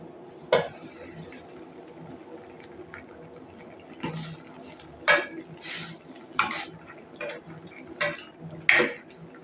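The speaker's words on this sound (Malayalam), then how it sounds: "ഇടക്കൊന്ന് ഇളക്കി കൊടുക്കാം." Bottle gourd cooks in a pan as a spoon stirs it, making sparse clinks and scrapes against the metal, one early and then a cluster of sharper knocks over a quiet background simmer.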